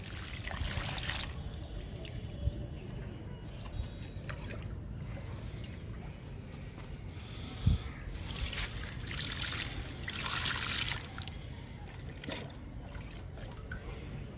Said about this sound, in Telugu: దానిమ్మ మొక్కలకి వాటర్ ఇస్తున్నాను